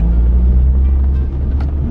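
A car engine rumbles loud and close with a steady low drone as the vehicle swings through a fast turn, no voices over it.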